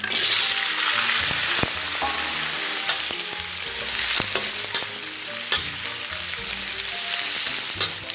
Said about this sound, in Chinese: 咱们给锅里边稍微来点油，油温3成热，咱们把调料给它下里边